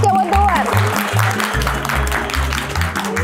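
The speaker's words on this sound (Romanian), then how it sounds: "Să mai aplaudăm o dată pentru Teodor." Guests at a home birthday surprise party for Casian Teodor clap for him while strong rhythmic music with a deep pulsing bass plays and voices mingle, the clapping partly masked.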